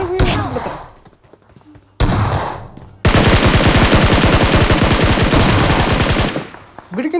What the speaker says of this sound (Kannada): ಇಲ್ಲಿ ನೋಡ್ರಿ 1 ನಂಬರ್ ಶಾರ್ಟ್ ಗನ್ ನಿಂತು ಹೊಡೆದು ಫಿನಿಶ್ ಮಾಡಿಬಿಡ್ತಾನೆ